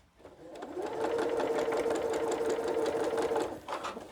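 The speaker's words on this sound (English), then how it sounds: "Give it that 1/4 inch seam, sewing the right two sides together." A sewing machine runs a quarter-inch seam joining two fabric pieces for a quilted Christmas cookie rug, its needle chattering in one steady, close burst that starts, holds for about three seconds and stops.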